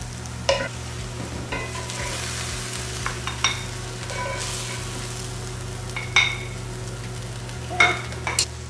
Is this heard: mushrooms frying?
yes